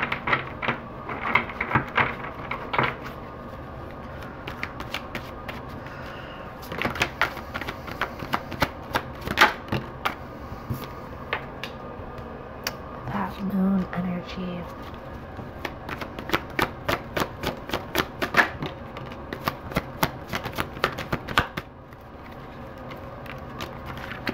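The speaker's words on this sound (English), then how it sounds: "I'm gonna get all the cards out here and then we'll talk about this" Tarot cards are taken out and laid down on a surface, with many quick papery snaps, shuffles and slaps in irregular bursts throughout, fairly close and clear, with no talk.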